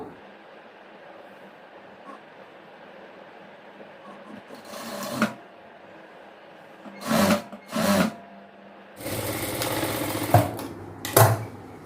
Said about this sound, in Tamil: இந்த ஹிப் அளவுக்கு நம்ம ஸ்டிச் பண்ணியாச்சு